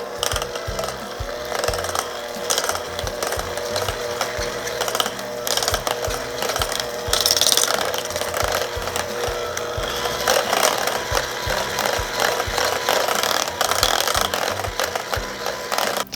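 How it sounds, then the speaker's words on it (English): Mascarpone and cream cheese being beaten together in a bowl, a steady, dense mechanical whirring and rattling that runs without pause at a fairly even loudness, with no talking. "in a bowl, I've got the mascarpone cheese and the cream cheese, and we're just gonna quickly mix this up"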